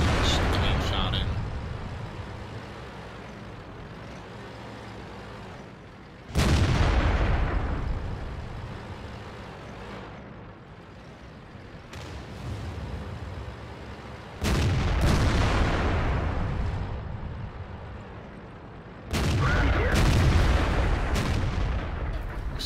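Tank cannons fire in the video game World of Tanks, featuring a KV-5 and an IS-6, with three or four heavy booming shots spaced several seconds apart. Rumbling engine noise and a voice run throughout.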